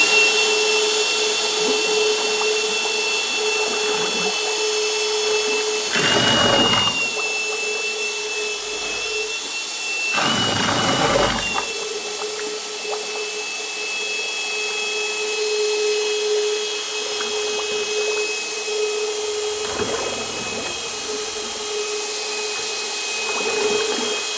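A power drill mixes deflocculant into clay slip, giving a steady motor whine and a constant churning hum that run without a break. A few louder, rougher surges come as the mixer catches.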